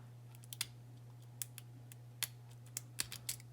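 Faint, sparse metallic clicks from a lock pick working inside a Burg Wachter padlock, scattered irregularly over a steady low hum, close and quiet with no talking.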